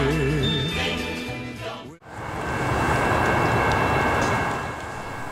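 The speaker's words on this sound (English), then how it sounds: "this will mark the arrival of our first 2 trains of the day" Horn tones sound, then break off into the heavy rumble and clatter of freight trains rolling past on double main tracks in Kent, Washington, loud and close, with squealing metal.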